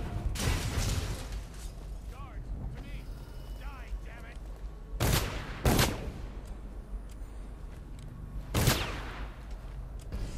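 Guards firing guns at rats in the Dishonored video game: a few sharp gunshot bursts, one early and two later, over a low ambient hum and faint mechanical creaks, with some talk.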